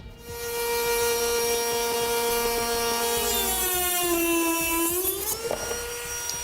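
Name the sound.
rotary tool cutting plastic fascia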